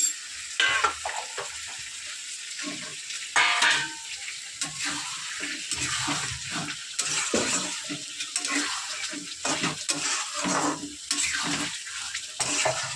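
Fried eggs go into a pan with fried potatoes and set off a loud, close sizzle, broken up by scraping stir strokes and clinks of the pan that come and go throughout.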